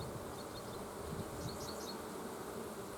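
A dense, steady hum of honeybees swarms around a hive frame, continuous and close, with no voices.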